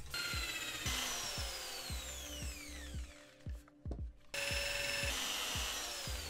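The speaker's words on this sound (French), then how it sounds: "Il nous reste une dernière planche à pré-percer, c'est le central." A power drill pre-drills holes in a wooden board for a homemade advent calendar, whining at a steady pitch with regular ticking pulses and a short pause before it runs again.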